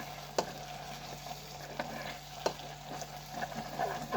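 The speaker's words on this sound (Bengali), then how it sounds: "মশলাটা একটু ভেজে নিই।" Bay leaves, garam masala and white cardamom fry in a pan, a quiet, soft sizzle with a few light stirring knocks, heard close but faint and without speech.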